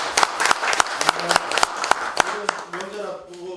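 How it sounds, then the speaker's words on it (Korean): An audience at a farmers' association meeting claps briskly, a scattered burst of hand claps that tapers off while a voice speaks over it. "박수 한번 힘차게 보내주시고"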